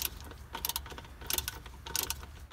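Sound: half inch socket ratchet loosening a jet ski manifold clamp nut

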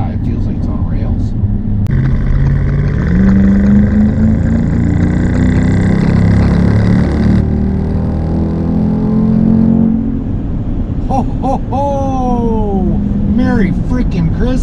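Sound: 475HP AWD car exhaust while accelerating

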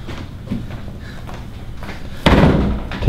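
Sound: door being closed

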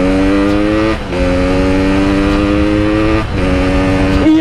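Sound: Yamaha RX King motorcycle engine revving

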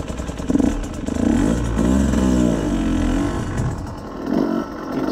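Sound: Husqvarna TE150i motorcycle riding in soft engine map

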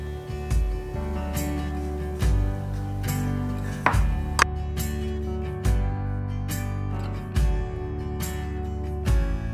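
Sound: knife dicing apricots on a cutting board

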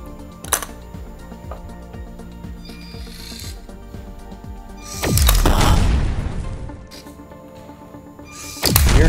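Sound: LEGO Spike Essential robot launching ping pong balls

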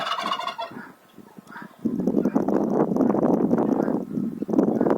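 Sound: turkey gobbling

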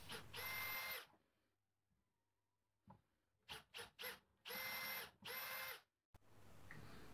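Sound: power drill drilling holes

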